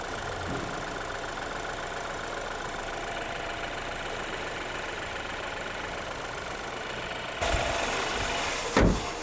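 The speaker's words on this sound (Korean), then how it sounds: "낙현아, 너가 운전 좀 해봐. 천천히 가봐" A BMW 5 Series 528i rolls slowly with a steady engine hum and road noise, ending in a couple of louder mechanical bumps near the close; no one speaks.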